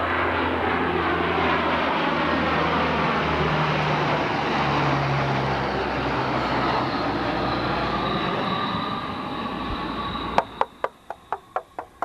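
A B-57 twin-seat bomber's jet engines roar in a loud, sustained, sweeping rush that drops away near the end, followed by a series of sharp clicks or bangs.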